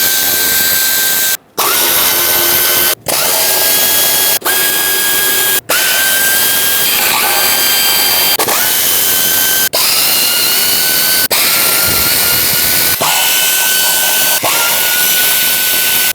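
Power tool removing valve cover bolts on a 2008-2010 Ford F-250 with the 5.4L engine, producing a loud, continuous close-up whine broken by several brief pauses and pitch changes as each bolt comes out.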